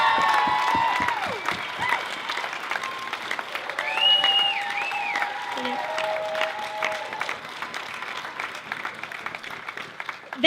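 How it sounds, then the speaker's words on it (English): Sustained crowd applause and cheering at an outdoor university rally, dense clapping throughout with scattered shouts and whistles rising over it. "I just want to have a huge round of applause, the biggest one you possibly can"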